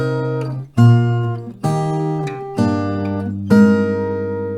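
Acoustic guitar plays a repeating chord pattern, five strummed chords ringing out one after another, clear and close with no voices.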